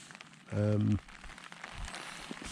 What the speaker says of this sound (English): rain that wasn't forecast is now raining